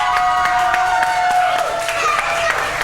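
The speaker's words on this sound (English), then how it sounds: "I give a big round of applause to this Iceman." Arena crowd at a Las Vegas wrestling event applauds and cheers for a young wrestler, a loud, dense wash of clapping and crowd noise throughout.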